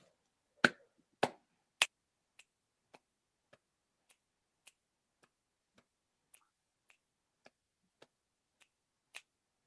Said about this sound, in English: It starts with snapping and clapping